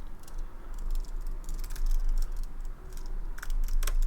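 Rapid, uneven clicking of a computer keyboard being typed on nearby, steady bursts of keystrokes over a low background hum, no voices.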